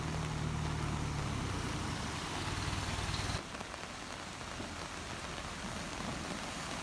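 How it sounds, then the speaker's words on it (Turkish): Heavy rain pouring onto city streets in Edirne, a dense constant hiss of drops on pavement, with a low vehicle engine hum under it that cuts off partway through. "Bir anda başlayan sağanak nedeniyle kısa süre içerisinde cadde ve sokaklarda su birikintileri oluştu"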